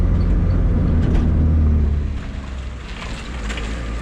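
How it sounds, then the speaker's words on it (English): A turbo D16 EF Honda Civic hatch with a full 3-inch exhaust drones low and steady from inside the moving car, easing off partway through, with faint interior creaks over road noise. "You can also hear the exhaust and all the creaks of the car."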